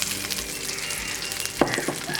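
Hot oil sizzles steadily as small onions fry for a thuthuvalai sambal, with a louder hiss and a few clinks of a spoon stirring near the end.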